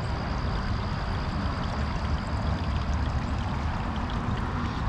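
Water of the Ottawa River flows along the bank in downtown Ottawa, a steady low rushing churn with a faint high tone above it, even and unbroken throughout.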